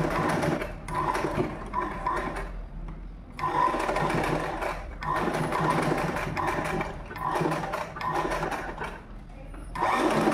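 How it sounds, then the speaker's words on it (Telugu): A sewing machine stitches a uniform skirt in bursts of rapid mechanical whirring, several runs of a few seconds each separated by short pauses, close and steady in volume. "ఇది కూడా పై నుండి స్టిచ్ చేసి ఇస్తాను."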